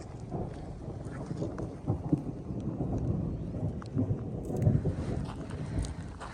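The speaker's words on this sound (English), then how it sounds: "Lots of thunder." Thunder rumbles low and rolling on a mountain pass along the Pacific Crest Trail, with heavy wind buffeting the microphone and uneven swells of deep rumble throughout.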